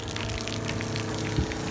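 Water rushes steadily through a soft wash skid's RO filter cartridge as process pressure drops, a loud, continuous, close gushing with a pump hum beneath, plus a brief thump near the end.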